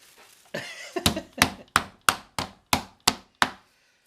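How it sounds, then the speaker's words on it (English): A meat mallet pounds half a pork tenderloin flat on a board, landing about nine evenly spaced, heavy thuds after a brief rustle, close and loud. "this is half a package of pork tenderloin, right? Flattening it out."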